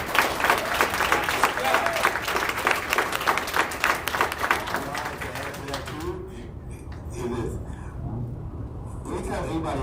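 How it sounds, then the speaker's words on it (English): Audience applause at a Boys 2 Men conference fills the room with dense, continuous clapping for about six seconds before thinning out, and a voice speaks over and after it. "Give him another round of applause"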